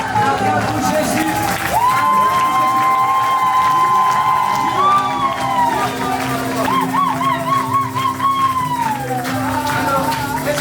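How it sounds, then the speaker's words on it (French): A congregation at a French-language church service cheers and shouts loudly, with sustained whooping and voices over a crowd roar and only light clapping beneath. "Applaudissez pour Jésus!"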